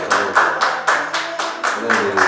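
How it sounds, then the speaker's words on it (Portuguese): A church congregation claps along in a steady, rhythmic beat, roughly eight or nine loud unison claps over a couple of seconds, with voices murmuring underneath. "E aplaude Jesus bem forte."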